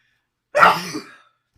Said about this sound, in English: I'm going to sneeze, I apologise.